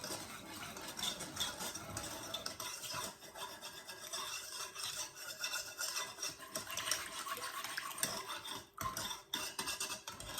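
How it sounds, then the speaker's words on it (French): A spoon mixes banana fritter batter with a pinch of salt in a bowl, producing a close, continuous wet scraping and rubbing with uneven strokes, fairly quiet throughout. "Je vais mélanger."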